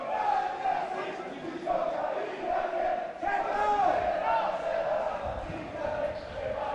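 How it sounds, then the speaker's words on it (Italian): Home supporters of Sanremese at an amateur Seconda Categoria football match in Italy sing loud, sustained stadium chants near the end of the game, a crowd chorus rising and falling with a commentator's voice over it. "Tifosi della Sanremese che cominciano ad attendere il triplice fischio intonando i loro cori."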